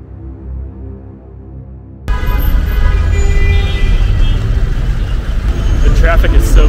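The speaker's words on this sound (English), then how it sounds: "traffic is so bad here in Giza, I just decided to get out of my taxi and walk" Heavy street traffic in Giza roars loud and close, cars, trucks and buses rumbling continuously with occasional horn-like bursts after a quieter opening moment.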